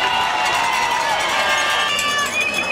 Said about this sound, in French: Vous pouvez applaudir tous les parents,